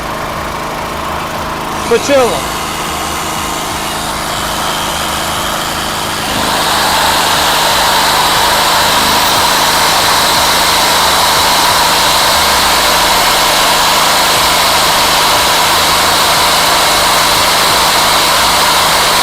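A 5.5 kW electric-start generator drones continuously and close, its engine note rising and growing louder after a few seconds as five tools load it, with a brief sweep early on.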